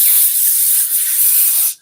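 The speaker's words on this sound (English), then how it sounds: "I'm showing you how I actually sprayed over his cubicle." A loud, continuous hiss of an aerosol disinfectant spray can, held close, spraying steadily over an office cubicle for nearly two seconds before stopping abruptly.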